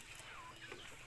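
A quiet chicken clucks a few times, faint and a bit distant against soft background noise.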